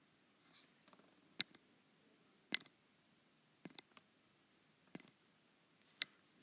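Marker or chalk writing on a board during a math lecture, heard as faint, scattered taps and short scratchy strokes in a quiet room with no talking.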